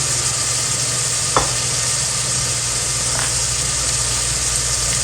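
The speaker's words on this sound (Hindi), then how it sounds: "यहाँ हम भिंडी फ्राई कर लेते हैं। थोड़ा सा ऑयल डालते हैं और इसमें ये सारी भिंडी डाल देते हैं।" Okra frying in a little oil in a pan over medium heat, a steady sizzle with a couple of brief stirring scrapes, close and continuous with no voices.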